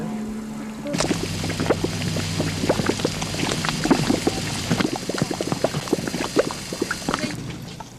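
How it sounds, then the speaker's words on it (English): Thick bubbling and gurgling of a boiling mud pool at the Rotorua geothermal area, with irregular plops and bursts over a steady churning background, fairly close. "this giant cauldron of boiling mud, a gurgling melting pot"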